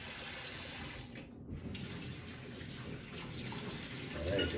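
Tap water runs steadily into a sink while a juicer is rinsed out, a continuous close splashing flow with a brief dip partway and a louder burst of splashing near the end.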